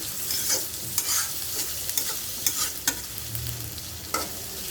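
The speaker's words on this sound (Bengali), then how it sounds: "একটু আস্তে আস্তে সময় নিয়ে এটা ভাজতে হবে, যেহেতু চিংড়ি মাছ আছে একসঙ্গে ভেজে নেব।" Onion and prawns sizzle and fry in a pan while a utensil stirs and scrapes, making repeated clinks at an irregular pace, close by.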